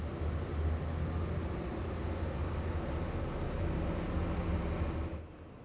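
An OTAM 70 HT motorboat's turbine engine starts in a steady, loud roar with a thin high whine that holds throughout, then drops off near the end; no voices.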